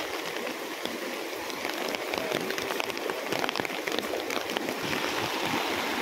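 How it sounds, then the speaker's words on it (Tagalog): Floodwater spills over an embankment and across a road, a loud, continuous rushing and splashing that holds steady throughout, with no talking. "Mapaw yung tubig sa tambak guys."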